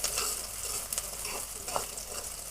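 Onions sizzle steadily in a hot pan for vegetable noodles, a close, continuous hiss broken by a few soft scrapes and clicks of stirring.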